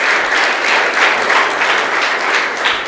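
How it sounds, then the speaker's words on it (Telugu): Students at a youth interaction event clap together in a loud, continuous burst of applause, a thick wash of many hands that holds steady from start to finish. "మీ వాడు క్లాప్స్ కొట్టండి."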